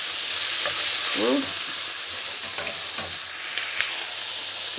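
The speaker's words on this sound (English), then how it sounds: "saute this for a few minutes until the onion is softened and the spring onion softened and cooked" Onion and spring onion sauté in a pan with a loud, even sizzle and occasional stirring scrapes, close up, with a brief spoken word partway through.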